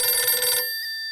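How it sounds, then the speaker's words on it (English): A telephone rings once inside the Blacksad: Under the Skin video game, a bright electronic bell burst that cuts off and leaves a faint ringing tail, heard alone. "The phone rang twice."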